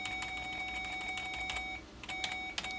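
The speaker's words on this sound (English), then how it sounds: "Perhaps not as, you know, soft-sounding as Ubuntu's terminal beep, but still, it's got its charm" A steady high electronic tone rings from an old Pentium computer running Alpine Linux, a constant terminal beep under faint keyboard clicks that cuts out briefly near the end.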